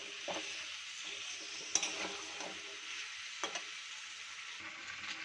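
Chicken and a homemade sauce are stirred in a hot pan: a soft, steady sizzle with occasional utensil knocks and scrapes, fairly faint and close, with no speech.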